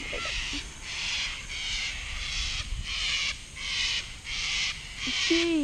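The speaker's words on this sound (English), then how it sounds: "Cockatoos. Annoying." Cockatoos near mangroves at Jervis Bay give harsh, raucous screeching calls in a repeated pulsing series, fairly loud and close, with a few sharper squawks near the end.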